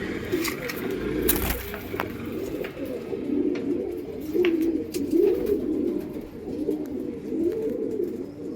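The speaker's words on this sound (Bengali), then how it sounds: "পুরানো নাসলের পায়রা আমার বাড়ি, ঠিক আছে। মেল পায়রা, ফিমেল পায়রাও দেখাচ্ছি।" Old-bloodline Kalanka pigeons coo in soft, repeated throaty rolls close by, with a few sharp clicks and rustles near the start.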